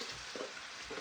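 Cajun shrimp, sausage and vegetables sizzling in a skillet while being stirred, a continuous close frying hiss with soft scraping stir sounds.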